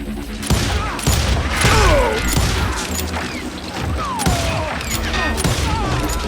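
Gunfire in the western shooter Call of Juarez: Gunslinger, several loud shots cracking out over a busy, continuous battle soundscape with whizzing bullets and impacts, fired at a fleeing enemy.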